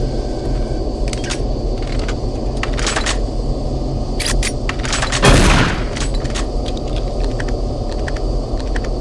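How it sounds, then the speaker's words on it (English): Minigun in the video game Doom 3 BFG, several short bursts of rapid gunfire over a constant ambient hum, with one louder boom-like burst in the middle. "Minigun looking real good."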